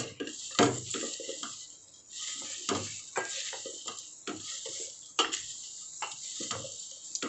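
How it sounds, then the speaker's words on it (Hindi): Food being mixed in a cooking pan, with repeated scraping and clattering strokes of a spoon against the pan over a faint background sizzle, close by and with no talking. "और अब हम इसको मिला लेंगे अच्छे तरीके से।"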